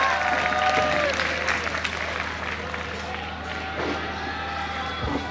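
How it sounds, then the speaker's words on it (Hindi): Students at a coaching centre clap loudly together, a dense, steady burst of applause lasting several seconds with voices audible over it. "एक बार तालियां बजा दे यार जोर से।"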